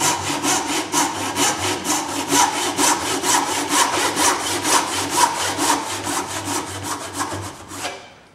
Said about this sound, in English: carefully going to saw down this side of the line